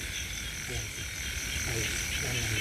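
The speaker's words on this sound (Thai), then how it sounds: "เดี๋ยวยินแต่เสียงกบเสียงเขียดห้อง" Frogs croak at night outside a shrine, with repeated low calls over a steady, dense insect drone that fills the whole stretch.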